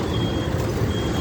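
Traffic jam noise heard from inside a TGSRTC city bus in Hyderabad: a steady low engine and road rumble with a faint high reversing-style beep running across it, alone with no talk.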